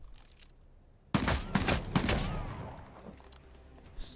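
Gunfire in the video game Bloodhunt: after a quiet lead-in, a quick burst of several loud, sharp shots rings out, then fades into a decaying tail with faint background noise.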